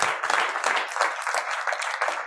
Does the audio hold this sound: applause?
yes